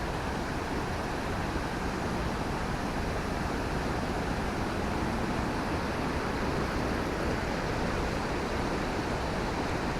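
Steady broadband roar of the Uma Anyar waterfall, a constant wash of falling water heard close and loud with no pauses and no voices.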